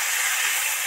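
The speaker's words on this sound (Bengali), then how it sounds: "এদিকে ভাজা হতেই থাক" Vegetables fry in hot oil with ginger paste and a sprinkle of salt, giving a steady, close, even sizzling hiss with no talk over it.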